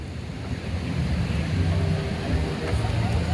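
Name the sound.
ocean waves and wind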